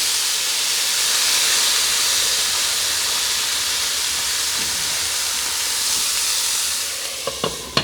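Steady, loud hiss of ingredients heating in a pot on a stove over medium-low heat for green beans with potatoes, ham and corn, continuous throughout, with a few faint clicks near the end.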